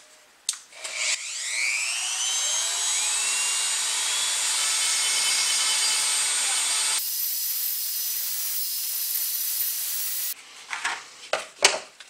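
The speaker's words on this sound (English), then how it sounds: "This has got a Dremel file, and I just want to get it started." A Dremel rotary tool fitted with a file bit shapes a model ship part, a loud, close high whine that winds up, holds steady for several seconds, shifts pitch, then stops, followed by clicks and handling knocks.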